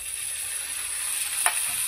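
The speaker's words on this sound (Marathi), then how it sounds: "त्यामध्ये ते परतून घेणार आहोत" Chicken pieces sauté in a hot pan for chicken thecha, a steady close hiss of sizzling with one brief scrape partway through and no voices.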